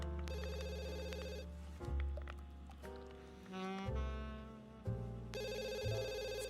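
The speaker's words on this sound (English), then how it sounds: "Get the phone. I don't want to hear it." A phone rings in The Sims 3 with repeated electronic trilling bursts, one at the start and another near the end, separated by a gap filled with softer in-game sounds.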